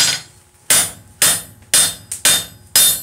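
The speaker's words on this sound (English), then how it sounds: "I'm going to do half on, half off blows." Hammer blows forge steel held in a vice, struck half on, half off. Five loud, close metallic strikes come in an even rhythm, each fading before the next, plus one small tap between them and no talking.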